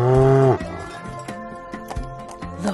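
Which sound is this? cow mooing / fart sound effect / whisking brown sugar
cow mooing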